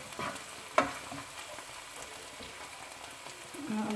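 Tomatoes sizzle and fry softly in a pan for a potato and spinach curry, a faint steady crackle with a brief stir or clatter near the start.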